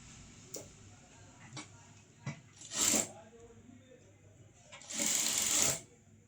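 A sewing machine stitches a blouse in short bursts, with a few sharp clicks before two louder runs of stitching. Faint talk and handling noise sit underneath.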